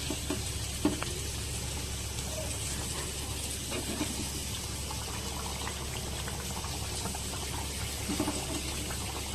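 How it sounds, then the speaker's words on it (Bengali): Fish curry gravy for koi fish boiling hard in a pan, a continuous close bubbling and hiss with small pops throughout, steady and alone. "ঝোল কিন্তু এখানে খুব ভালো করে ফুটে গেছে, অনেকক্ষণ জাল দিয়েছি।"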